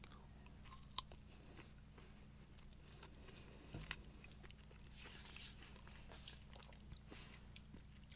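Soft, close crunching and chewing of an MRE teriyaki beef stick, irregular bites and mouth sounds over a low steady hum, with no talking.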